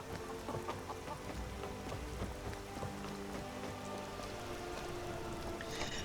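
Rain from the Wonders of Weather mod in Skyrim falls as a dense, even patter of drops splashing on surfaces, with a faint distant rumble underneath and no voices.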